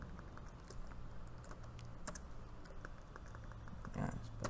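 Soft, rapid tapping of a computer keyboard while editing HTML and CSS, steady irregular keystrokes heard close but faint against a low background hum.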